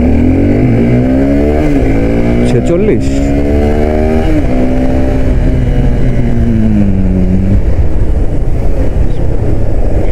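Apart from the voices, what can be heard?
Suzuki Gixxer SF 250 motorcycle accelerating in first gear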